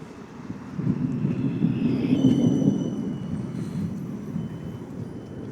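A tram in Hungary rumbles low and steady from inside the car, rising in the middle as it moves, with faint high squeals and rattles over the continuous drone.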